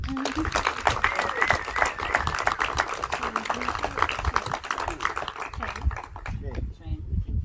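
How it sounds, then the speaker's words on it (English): Applause from clan members and friends greeting the newly inaugurated O Dea clan chieftain in Ireland, a steady patter of clapping running through the whole stretch with voices talking over it. "A round of applause for Joni."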